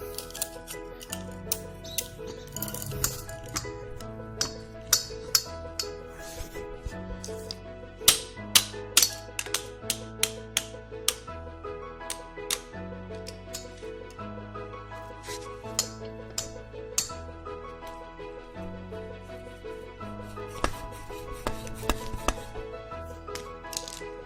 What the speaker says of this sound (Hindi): तो कटर से मैं उतार रहा हूँ, तो उतरता रहेगा ऐसे ही।